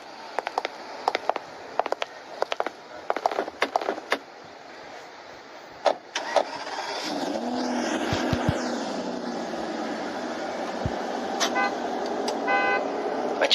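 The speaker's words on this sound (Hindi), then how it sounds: "लगता है धनपत राय ने गाड़ी भेजी है" A car's engine turns over and settles into a steady running drone after a series of sharp clicks and clatters. Short horn toots sound near the end.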